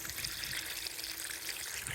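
Dirty water from a koi pond filter being pumped out toward fruit trees, a steady close splashing and trickling flow that runs continuously without pause.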